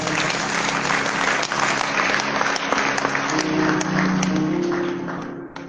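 A church congregation at an Easter Friday conference applauds loudly and continuously, dense clapping that fills the space and begins to fade toward the end.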